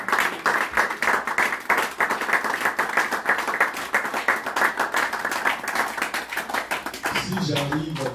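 Church congregation clapping in acclaim of Jesus, quick, even, rhythmic applause close by for several seconds before a voice comes in at the end.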